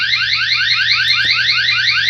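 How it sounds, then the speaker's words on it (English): The built-in alarm of a eufy S330 4K solar-powered security camera wails loud and close, a rapid repeating electronic siren that sweeps up over and over without a break. "Now it does have a built-in alarm."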